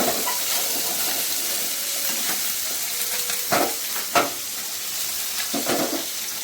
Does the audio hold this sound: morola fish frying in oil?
yes